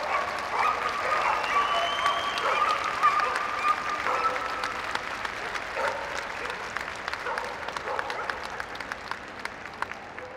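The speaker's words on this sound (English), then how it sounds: "Big round of applause, please." An audience at the Crufts 2012 obedience championship final parade applauds steadily for about ten seconds, with a dog barking among the dense clapping and an announcer's voice over the top.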